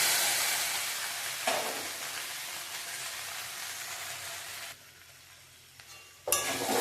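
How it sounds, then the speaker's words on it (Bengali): Okra and potatoes frying in a pan over gas turned down low, a loud, steady sizzle with stirring bursts, dropping quieter near the end before one last sharp flare of hissing. "আস্তে আস্তে গ্যাসটা কম করে দিয়ে ভাজবো"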